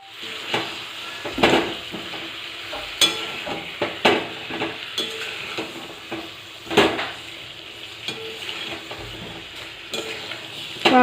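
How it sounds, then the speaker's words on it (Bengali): Boiled potatoes and cauliflower stir-fried in a pan for egg curry: a steady low sizzle of frying with a spatula scraping and clanking against the pan every second or so, close and moderately loud. "আলু ফুলকপি একসঙ্গে ভালো করে কষিয়ে নেব।"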